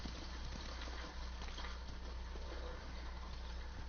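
Horses' hooves clip-clop steadily in the video game Ghost of Tsushima, a soft, continuous trotting patter set within a dense wash of ambient noise and a low rumble.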